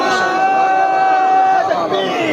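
A crowd at a religious speech gathering in Pakistan answers a slogan chant with a loud, sustained shout that lasts the whole moment and carries a strong held tone above the roar of many voices.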